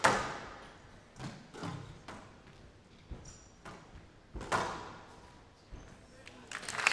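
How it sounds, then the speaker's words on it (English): Squash ball struck during a 2013 U.S. Open semi-final women's match, a series of sharp thuds and thwacks scattered irregularly across the rally, some near and crisp, others softer, with commentators talking over the play. "That's a great shot from Weewern."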